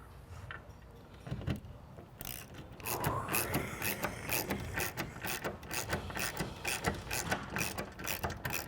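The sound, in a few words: socket wrench ratcheting while wall-mounting a TV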